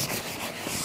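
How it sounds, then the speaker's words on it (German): Close, steady abrasive rubbing of hand sanding across a cracked leather sofa surface, a brief continuous scratchy hiss with no talking. "Und zwar einmal die gesamte Fläche glatt schleifen,"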